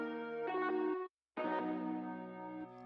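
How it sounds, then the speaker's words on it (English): Bell preset from a Studio One plugin, played as sustained, ringing bell-like tones with rich overtones. Two notes sound, separated by a brief silent gap. "Bells, right?"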